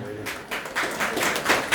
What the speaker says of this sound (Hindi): इसमें तालियां थोड़ी आप लोगों ने धीमी बजाई